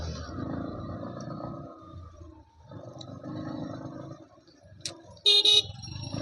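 Cars pass on a road with steady engine and tyre rumble, broken by a short toot and then a louder double honk near the end.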